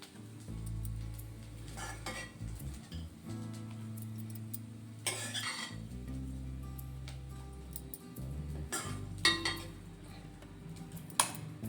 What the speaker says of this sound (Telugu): ఇప్పుడు దీన్ని మంచిగా కలుపుకుందామండి